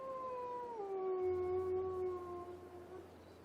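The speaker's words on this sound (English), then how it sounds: "Oh, no, somebody else gave us the howl." A wolf in the video game The Long Dark gives a long, drawn-out howl that slides down in pitch and then holds, sounding somewhat distant, alone with no voices over it.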